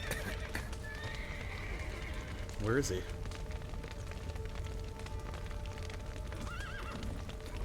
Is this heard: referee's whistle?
no